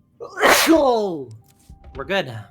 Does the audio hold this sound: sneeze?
yes